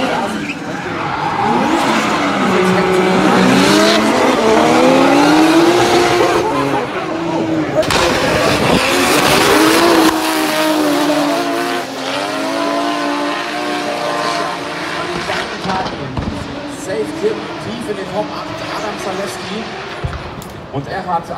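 Drift cars skid and squeal their tires at a Driftmasters GP race in Greinbach, with screaming engines and long tire howls under continuous excited German commentary.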